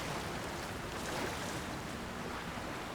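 A waterfall in Zelda: Tears of the Kingdom roars as a steady, broad wash of rushing water, constant and fairly soft, with no voices.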